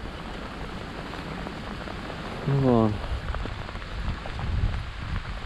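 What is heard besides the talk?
rain falling while fishing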